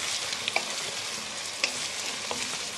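Chopped onions frying in oil in a kadai, with cardamom and cloves, give a steady close hiss and sizzle, broken by a few clinks of a stirring spoon.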